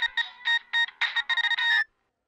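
A phone rings with an incoming call: a bright electronic ringtone plays in short repeated melodic bursts, loud and close, then stops abruptly.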